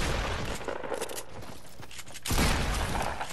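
Gunfire in Fortnite comes as a dense, continuous crackle of shots with a heavier burst near the end, loud and close, with no talk over it.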